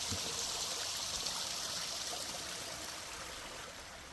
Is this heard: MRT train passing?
no